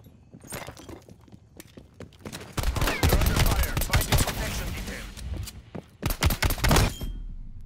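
Gunfire in Call of Duty Black Ops Cold War during a VIP escort match: scattered shots build into dense automatic fire, then a final rapid burst, with game voices faintly underneath.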